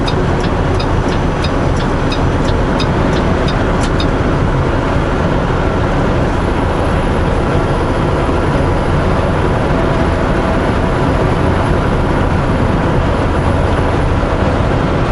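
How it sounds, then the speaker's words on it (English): Steady, loud broadband road and engine noise from a car in slow, stop-and-start city traffic, continuous throughout with faint high ticking early on and no voices. "Lots of traffic"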